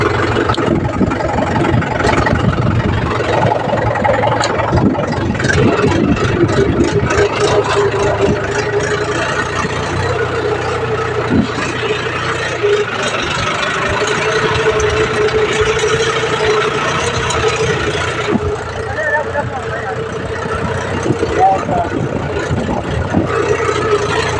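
A tractor engine idles and runs steadily on a farm after ploughing, a loud continuous low rumble with a slight rhythmic chug that holds for the whole stretch, with no clear voices over it.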